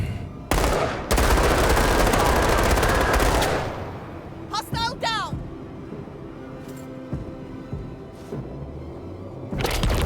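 Video game weapon fire cracks out in loud automatic bursts, first a dense sustained volley, then quieter scattered shots and mechanical clicks, with another burst near the end.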